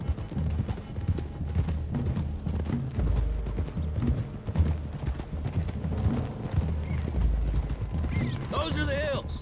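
Horses gallop in The Witcher 3: Wild Hunt, with rapid hooves clattering steadily under game dialogue, a brief whinny, and some creaking tack or wagon noise.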